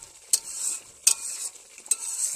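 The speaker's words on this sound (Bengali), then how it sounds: "মশলা কষাচ্ছে, আলু ভাজছে" Spices are stirred in a pan with frying potatoes for a chicken meat curry cooked at a farm: three sharp utensil scrapes recur at a steady pace over a continuous soft sizzle, near and without talk.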